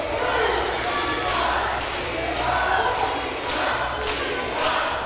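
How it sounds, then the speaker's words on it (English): At a Reality of Wrestling match between Eli Knight and Danny Limelight, an arena crowd cheers loudly and continuously, with swelling roars and rhythmic chanting. "Everybody is cheering for Eli right now."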